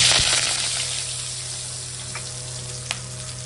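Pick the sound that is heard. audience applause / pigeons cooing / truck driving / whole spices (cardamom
whole spices (cardamom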